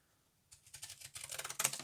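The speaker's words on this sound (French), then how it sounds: "je viens juste cranter un petit coup mon sachet" Pinking scissors notch the top of a small paper Halloween treat bag, giving a run of quick, crisp snipping crunches that start after a brief silence and grow denser and louder.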